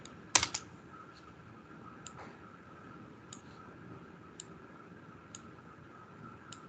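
Computer keyboard typing, a few faint, sparse key clicks spaced across several seconds against quiet room background.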